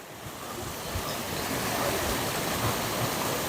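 Steady rushing water of a small stream flowing nearby beside Kundi waterfall in Kutch, a constant broadband wash with no voices.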